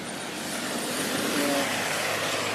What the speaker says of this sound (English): But I love the sound of cars on wet tarmac.